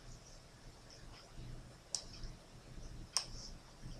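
Two sharp computer mouse clicks sound a little over a second apart against a quiet background hum while working in 3ds Max.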